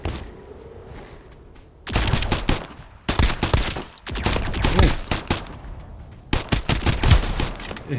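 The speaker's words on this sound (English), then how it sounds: "I prefer to just kill them on automatic fire." Automatic gunfire in the video game Escape from Duckov: three loud bursts of rapid shots separated by short quiet gaps, close and punchy.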